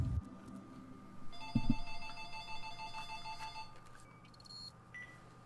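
A telephone rings during a video game session, a steady electronic trill with layered harmonic tones lasting several seconds, moderately loud, then fading as higher beeps follow; a couple of low thumps precede it.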